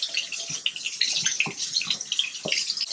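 Water from a tap splashes over a makeup brush during rinsing, a close, continuous hissy spray broken by uneven little gurgles and splats as the bristles move under the stream, with no voices.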